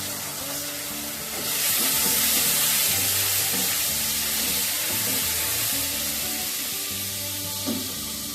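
Tomato sauce poured into hot white oil in a pan for cauliflower Gobi 65, giving a loud, steady sizzle and frying hiss that swells and keeps crackling close up with no voices.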